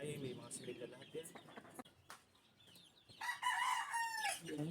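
A hen with newly hatched chicks, clucking and peeping near the start and bright high chick cheeps later, with a person talking over parts of it.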